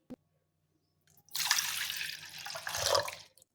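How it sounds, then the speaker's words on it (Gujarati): A glass of water poured into a cooking vessel for a dried fenugreek curry: a brief clink, a pause, then a steady splashing pour for about two seconds, close and fairly soft, with no speech. "વાસણની અંદર હું અહીંયા 1 ગ્લાસ જેટલું પાણી ઉમેરી લઈશ।"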